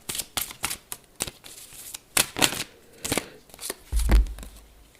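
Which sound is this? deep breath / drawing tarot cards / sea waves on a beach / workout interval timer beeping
drawing tarot cards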